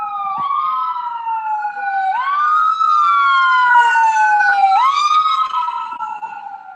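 An ambulance siren wails in rising and falling sweeps as it passes close by on a city street during a rally, loud and alone with no talk over it.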